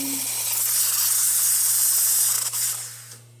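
An Expobar espresso machine's steam wand lets out a loud, steady hiss of steam for about three seconds, then cuts off abruptly, with a low machine hum beneath it.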